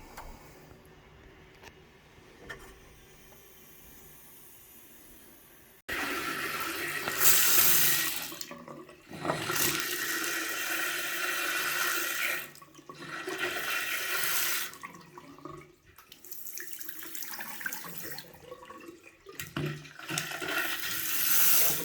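Hot tap water gushing and sputtering as trapped air is bled from a household plumbing system, loud and close, with surges and brief drops in flow as air pockets break through, no talking.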